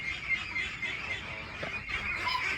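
A dense flock of meat ducks clamoring for food honks and quacks continuously, a noisy overlapping clamor with no pauses.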